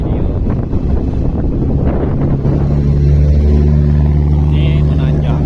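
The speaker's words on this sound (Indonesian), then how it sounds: "Ini menanjak, suka dengeran suara mobil." A vehicle engine drones with a steady low hum that strengthens partway through as it climbs uphill, mixed with wind buffeting the microphone.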